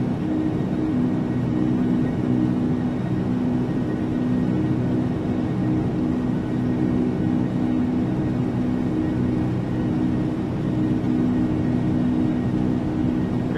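Engines of an L-1011 TriStar in FSX spooled to full takeoff power, a steady, loud droning roar and whir with a strong low hum that holds evenly throughout.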